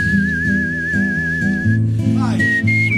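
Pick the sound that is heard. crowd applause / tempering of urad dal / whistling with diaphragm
whistling with diaphragm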